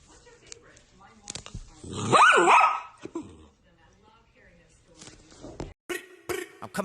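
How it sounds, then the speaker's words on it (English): A small puppy yaps and growls in short bursts, with one louder stretch of barking near the middle, amid a person talking nearby. "That's just my baby dog."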